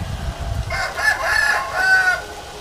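A desi rooster crows once in a long, drawn-out call on a village poultry farm. It is moderately near and sounds alone, with a faint low rumble of background noise.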